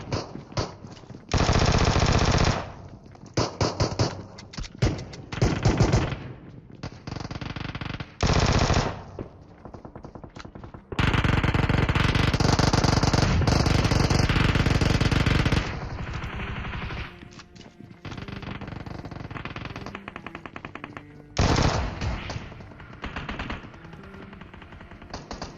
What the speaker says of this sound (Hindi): यहाँ पे चारों तरफ से इतनी गंदी वाली फायरिंग हो रही है